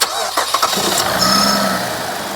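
A Cadillac SRX4 with engine hesitation and power loss cranks and fires up, a short starter whir followed by a steady, close engine hum with no speech over it.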